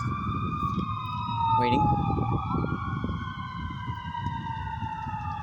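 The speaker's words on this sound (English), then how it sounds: "Let's wait for the sirens to stop." Sirens of passing emergency vehicles, including a fire engine, wail and sweep up and down outdoors on a stormy, windy day beside water. A low rumble of wind and traffic sits underneath, and someone speaks briefly.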